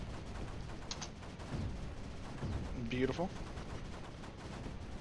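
Mortars firing in the strategy game Creeper World 4, muffled thuds under a steady noisy game bed, with a brief spoken word partway through.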